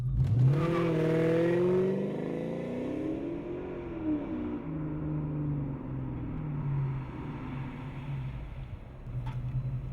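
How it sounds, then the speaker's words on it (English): An automatic 2000 Ford Mustang GT accelerates hard from 0 to 60, the engine climbing through rising gear sweeps with audible shifts, loud and close from inside the car. "we're going to do a baseline 0 to 60 run"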